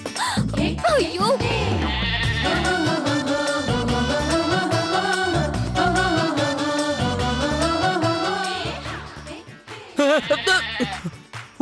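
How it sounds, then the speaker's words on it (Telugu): A flock of sheep being herded along, bleating in overlapping calls throughout, mixed with people talking and background music. "వీళ్ళేమో ఇంకా గొర్రెలు తోలలేకపోయారు"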